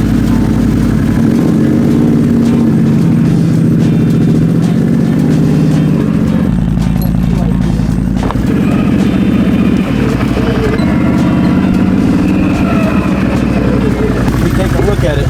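A Can-Am side-by-side engine runs steadily while the machine is driven in reverse, a loud low drone that holds throughout and shifts in tone partway through.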